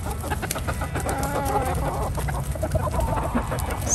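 Several chickens cluck and murmur close by, overlapping soft calls over a low background rumble.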